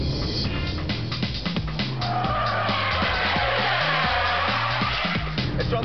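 Four-wheel drive Mitsubishi Evo, Subaru Impreza, Nissan Skyline or Porsche Turbo burns rubber, a loud continuous tire squeal and skid over a revving, pulsing engine throughout, with no talk.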